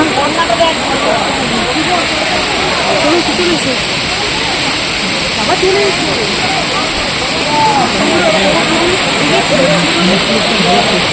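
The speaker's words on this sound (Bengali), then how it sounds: "এই যে ঝর্ণাটা" A waterfall in the Ayodhya hills of Purulia pours in a steady, loud, broadband rush that fills the whole stretch without pause, with people talking over it.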